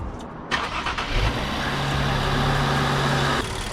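A 2023 Infiniti Q50 engine cranks briefly on a cold start, catches, and settles into a steady idle with a low hum, close by.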